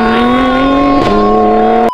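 A car billed as a Lamborghini Urus LP 640 edition revs in sport mode, holding a loud, steady, buzzing engine tone that shifts pitch once midway before stopping abruptly.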